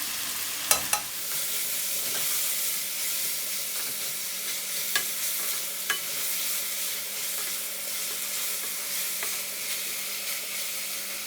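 Onions and salt being stirred in a pot over low heat, a steady soft frying hiss throughout with a few sharp scraping clicks of the spoon near the start and scattered later.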